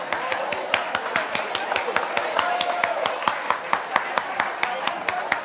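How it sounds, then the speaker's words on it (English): A live talk audience claps in a steady, even rhythm, with crisp synchronized hand claps repeating about every quarter second, loud and close, amid faint murmuring. "Start clapping."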